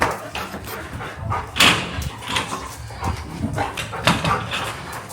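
Puppies give short yaps and whimpers nearby, scattered across a few seconds amid indoor rustling and a brief door-like scrape.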